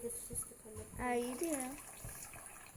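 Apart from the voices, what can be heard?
filling hamster water bottle with water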